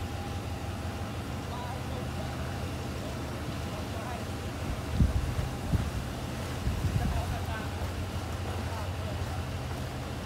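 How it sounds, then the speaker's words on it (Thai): Strong wind blowing at Nong Pladuk railway junction, a faint, steady rush with a few low buffeting gusts against the microphone over a constant low rumble. "วันนี้ลมแรงมากๆนะครับ"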